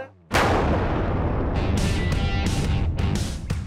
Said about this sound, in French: Donc ça, c'est de l'explosif conventionnel, de type plastique, c'est du Semtex.